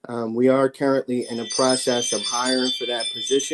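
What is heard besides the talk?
Ring video doorbell chime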